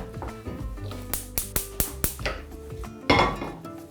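A small pan is handled in a kitchen, giving a run of sharp metallic clanks and knocks in quick succession, followed by a softer rattle and scrape.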